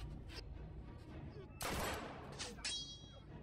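A pistol fires in a tense drama scene: a sharp, loud crack bursts out, then a couple of fainter shots follow, set against a low background murmur.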